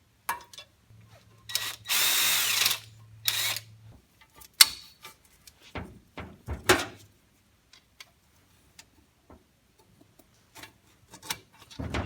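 A power drill whirs loudly in a short burst while rebuilding a Holset HT60 turbocharger, followed by scattered clicks, taps and handling noises of tools in a quiet space.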